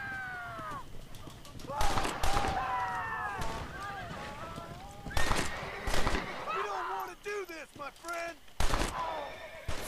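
Gunshots in the Red Dead Redemption game, several sharp reports scattered through a busy scene with horses whinnying and hooves clopping, all heard under someone talking excitedly.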